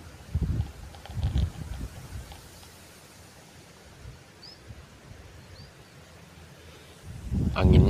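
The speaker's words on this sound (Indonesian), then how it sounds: "Anginnya sangat kencang ya teman-teman." Strong gusts of wind buffet the microphone over an open rice paddy, coming in heavy rumbling bursts at the start and the end with a quieter, steadier rush between them.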